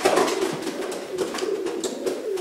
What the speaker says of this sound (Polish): No też taki żywy gołąb.